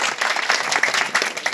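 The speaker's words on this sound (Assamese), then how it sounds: "এটা হাত চাপৰি হ'ব লাগে।" A seated audience at an Assamese nagara naam performance breaks into brief, dense hand clapping, loud and close, with no talking over it.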